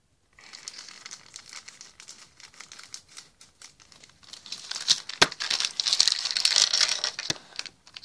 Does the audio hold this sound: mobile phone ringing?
no